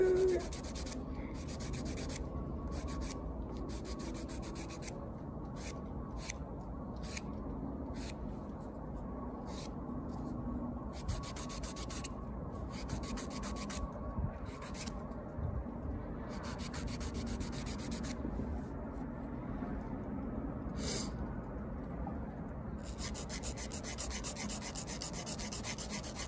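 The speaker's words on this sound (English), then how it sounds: "Almost done filing, y'all." A nail file rasps against fingernails while a fall-themed manicure is being prepared, with close, steady scratchy strokes running continuously and small uneven bursts throughout.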